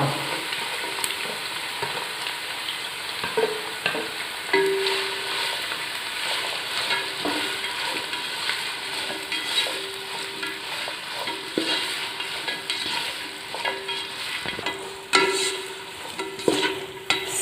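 Two large onions fry in hot oil in a pan for chicken kabsa, a steady sizzle broken by repeated spoon scrapes and clinks against the pan as they are stirred.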